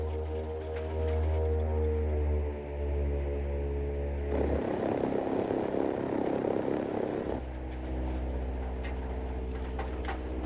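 Propeller aircraft engines droning in flight aboard a 1930s twin-engine plane, a loud steady hum with strong harmonic tones, briefly shifting to a rougher, noisier roar midway before the even drone returns.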